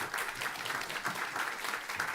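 Crowd at a food security panel applauding a newly introduced Starbucks executive, a dense, continuous wash of clapping at moderate volume.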